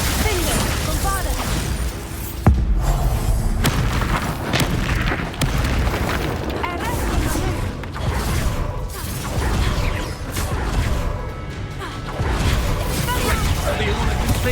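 Bombarda spell blasts in the Hogwarts Legacy video game: repeated booming bursts in a dense, continuous battle mix, with a sharp hit near the start and a voice speaking over the fighting.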